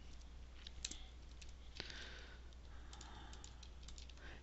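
Typing on a computer keyboard comes through as faint, scattered light clicks over a low steady hum, with a couple of slightly sharper key taps standing out.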